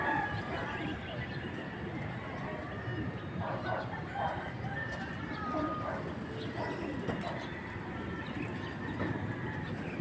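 Pet pigeons at a backyard loft, soft cooing and scattered bird calls over a steady outdoor hum with brief rustles, no clear talk.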